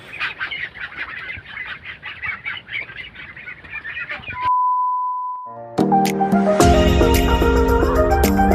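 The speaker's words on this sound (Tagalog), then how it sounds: "May mga itik yan dyan mga ka-farmers." Ducks on a livestock farm that also keeps geese and pigs give a dense run of overlapping quacks and honks for about four seconds. A steady tone and then loud music follow the calls.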